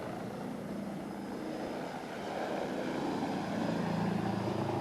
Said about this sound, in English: the noisy helicopter overhead